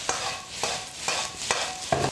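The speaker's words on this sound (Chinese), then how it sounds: "下入撕好的平菇。" Torn oyster mushrooms stir-fried with lard in a wok, with ginger, scallion, garlic and dried Sichuan peppercorns, give a steady close sizzle broken by four or five scraping strokes of the spatula.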